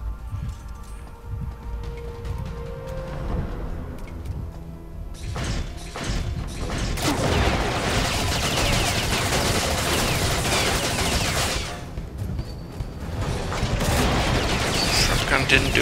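Shotgun blasts in Chronicles of Riddick, heavy thumping shots amid dense, continuous combat noise and crashes, loud and close throughout.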